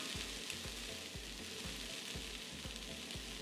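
Vegetables sautéing in an Instant Pot give a quiet continuous sizzle, with regular low thumps running underneath at a steady pace.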